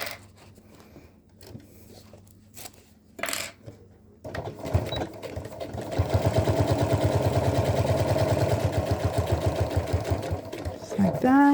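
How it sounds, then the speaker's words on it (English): A sewing machine stitches a seam on a backpack: after a few scattered clicks and handling noises, it runs in a fast, steady, loud rhythmic hum for several seconds, with a person talking around it. "we're going to sew it down and that little notch right here"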